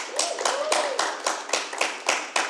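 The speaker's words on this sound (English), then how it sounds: "Let's give Dr. J a round of applause." A business school authors' forum audience applauds a guest speaker, with dense hand clapping in rhythmic bursts, moderately loud and close, running steadily for a few seconds without speech.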